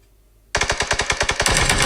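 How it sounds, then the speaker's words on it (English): Automatic gunfire in the battle royale video game PUBG during a team scrim match. A loud burst of rapid, evenly spaced shots starts abruptly after a short quiet moment, then blurs into continuous firing. "and more shots being fired by Team 17 and Team 10, with Team 17 continuing to fire"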